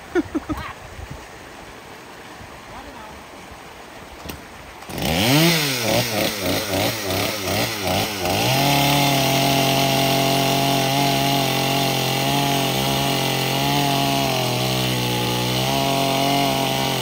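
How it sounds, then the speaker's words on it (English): Chainsaw cutting flood debris at a clogged low water bridge: a few faint knocks and running water, then the saw starts up, revs in surges and settles into a loud, steady close-up drone. "I'm gonna chainsaw this, so it's gonna be a little loud."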